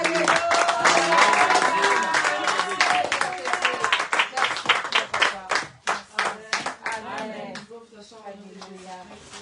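A church congregation claps and applauds together, a loud, rhythmic patter of many hands that gradually fades, with a voice speaking over it.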